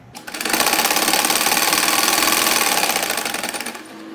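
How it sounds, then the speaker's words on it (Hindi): A sewing machine runs steadily and loudly for about three and a half seconds, sewing a double seam along the edges of a salwar mohri with a fast, even rattling rhythm. "इसी तरह की जो डबल सिलाई है वो मैं ऊपर भी यहाँ पर बिल्कुल एजेस पर दोनों सिलाइयाँ लगा दूंगी"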